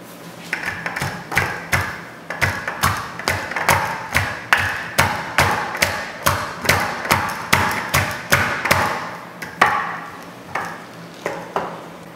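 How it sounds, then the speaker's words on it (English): Cabbage for a vegetable ferment is pounded down into a jar with rapid, steady thuds, roughly three per second, close and fairly loud, with a brief pause near the end before a few more strikes. "this one jar will hold nearly two heads of cabbage, so it really does get pounded down."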